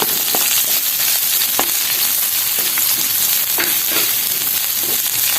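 Crushed garlic, ginger and curry leaves frying in hot oil for a sardine curry, a loud, dense, unbroken crackling sizzle close up, with faint stirring scrapes scattered through it.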